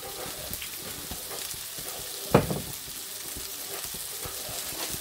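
Onions frying in added fat in a pan, a steady close sizzle and crackle with a brief louder splash of stirring or spattering partway through.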